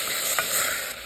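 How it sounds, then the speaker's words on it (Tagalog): Onion, tomato and pork with aromatics sizzle and fry in a pan, a steady close hiss with a brief stirring scrape partway through. "magisa-gisa lang tayo ng ating mga aromatics"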